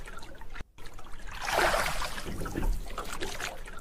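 A rowboat moving on water in a forested creek, with soft sloshing and trickling water from the oars that swells midway and then settles, heard up close with no talk.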